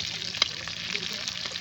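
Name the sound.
fish frying in hot oil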